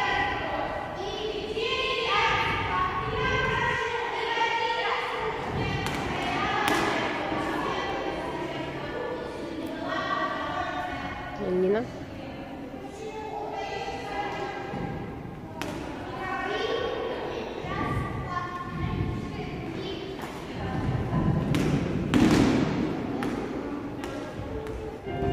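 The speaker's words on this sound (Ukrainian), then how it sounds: "Вони готують танець з м'ячами." Balls bounce and thud repeatedly on a hall floor during a children's dance rehearsal with balls at the Dynamo venue, irregular thumps under music and chatter from voices nearby.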